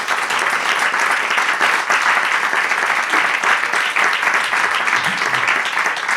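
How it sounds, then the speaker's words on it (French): Audience at a panel discussion on management innovation applauds the speakers: a dense, steady wash of many hands clapping, loud and close, sustained evenly throughout without a break. "Je vous propose aussi d'applaudir nos intervenants pour leur apport."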